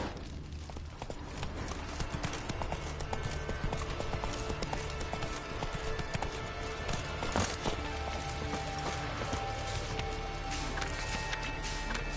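Galloping hooves of Roach, the horse in The Witcher 3, a steady rapid clip-clop running throughout at close range over a constant game backdrop.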